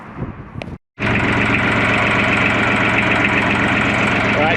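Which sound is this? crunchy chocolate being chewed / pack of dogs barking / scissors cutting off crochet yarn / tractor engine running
tractor engine running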